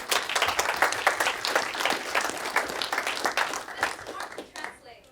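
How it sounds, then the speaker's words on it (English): An audience claps for Jenny at a seminar on selling to affluent Chinese buyers, with dense, close, energetic applause that rises and falls before stopping abruptly. "One applause for Jenny."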